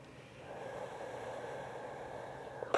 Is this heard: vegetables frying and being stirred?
no